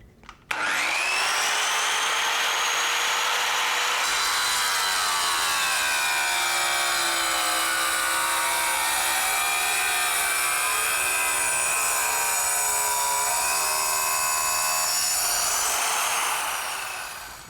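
A wet tile saw whines loudly and steadily as it grinds through tile, running continuously close up with a sustained high-pitched tone.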